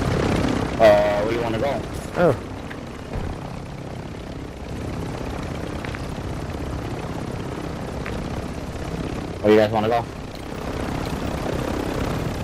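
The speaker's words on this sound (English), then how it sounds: "Chopper's here." Helicopter from Call of Duty thrumming steadily nearby with a continuous rotor and engine drone, under short bursts of players talking over it.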